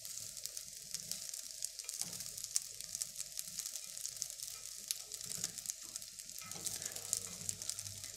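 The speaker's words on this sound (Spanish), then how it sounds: "Revolvemos para que no se pegue. En este caso tengo una olla de teflón" Rice sizzles steadily in a teflon pot as it is stirred, a soft continuous frying hiss with light scraping, fairly quiet and close, with no voices.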